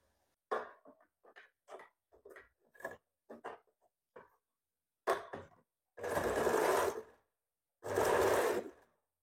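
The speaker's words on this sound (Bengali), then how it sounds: "সেলাই করছি।" A sewing machine stitches a blouse sleeve in two loud, steady whirring runs of about a second each, following a stretch of soft, scattered handling clicks and taps.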